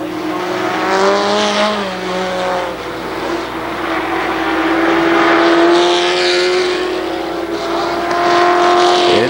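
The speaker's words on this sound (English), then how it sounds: "Brandenburg slows right up on the back bumper of Gary Estes." Stock cars race around KilKare Speedway, engines roaring loud and steady as the pack passes close by, with shifting pitch as cars accelerate; no talk over the racket.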